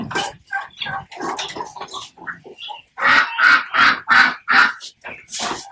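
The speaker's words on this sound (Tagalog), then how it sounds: "Sobrang dami ng mga bibi kasi." A flock of Pekin, Muscovy and Mallard ducks quacking loudly and repeatedly up close, overlapping calls in irregular bursts, with a run of strong rhythmic quacks near the end.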